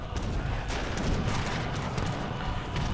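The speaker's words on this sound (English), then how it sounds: "Sebastian, your mortars are dangerously close." Mortar fire rumbles in the Age of Empires III strategy game, dense overlapping booms and crackling volleys forming a continuous loud barrage, with no talking.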